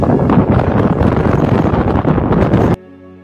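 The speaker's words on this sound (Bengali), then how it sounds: "প্রচন্ড হাওয়া দিচ্ছে আর ঢেউ" Strong wind at Tajpur beach roars and buffets the microphone with a rushing, wave-like wash of sea waves underneath, then cuts off abruptly near the end.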